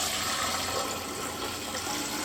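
Warm water runs steadily from a tap into a sink, a continuous broadband gush and splash that stays loud and even throughout with no voices over it.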